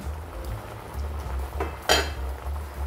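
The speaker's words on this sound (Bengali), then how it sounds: "3 মিনিট পরে আমি ঢাকাটা খুলে নিচ্ছি।" A lid comes off a pan of prawn malai curry with a quick metallic clink and a brighter clatter a moment later, over a low, faint simmer.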